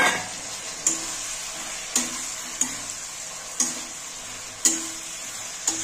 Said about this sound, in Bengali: দেখো এবার একটুখানি জল দিয়ে কষাবো আমি